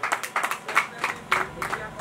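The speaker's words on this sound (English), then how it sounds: "A round of applause for" Scattered, fairly faint applause at a church gathering, with a handful of claps and bursts in an uneven rhythm over about two seconds.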